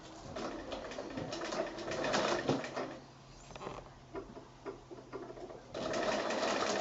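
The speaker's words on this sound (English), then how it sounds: "I'm just stitching close to the edge of that Velcro." A sewing machine runs in steady bursts, stitching close to the edge of a Velcro strip on a quilted project bag, loud and near with brief pauses between runs and no talk.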